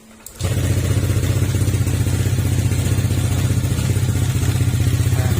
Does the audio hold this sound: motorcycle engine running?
yes